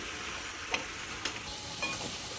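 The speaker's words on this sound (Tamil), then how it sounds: "கத்திரிக்காய் போட்டு நல்லா வந்து அந்த எண்ணெயில் லைட்டாக வதங்குற அளவு கிளறி விடுங்க" Eggplant frying in oil, a steady soft sizzle with a few light scrapes of stirring, close and quiet, with no voices.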